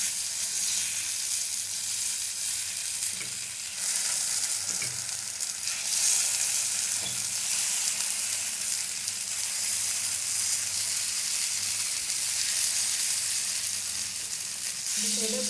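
Kuzhi paniyaram fry in a pitted pan, giving a continuous, even sizzle and crackle close up, with faint stirring or turning clicks and no voices.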